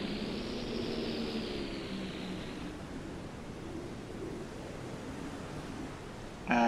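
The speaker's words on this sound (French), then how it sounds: "Oh, ça y est, les avions qui arrivent maintenant." Aircraft in the Silent Hunter 3 submarine game approach as a steady, broad engine drone over ocean wash, moderately distant and even in level, with a higher whine fading out midway and a sudden louder noise at the very end.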